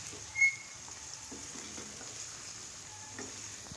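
Onions brown in very hot oil for a keema and capsicum dish, giving a soft, steady frying hiss with a few faint crackles and one brief louder clatter near the start, fairly quiet and close.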